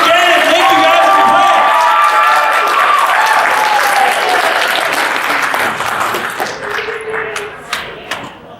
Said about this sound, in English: Round of applause for Rachel and Ganon!